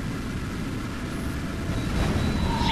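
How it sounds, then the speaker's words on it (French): Bombing explosion in the jet combat video game Hawx comes through as a continuous, loud, broad rumbling roar that swells slightly toward the end, with no talking. "Explosion collatérale"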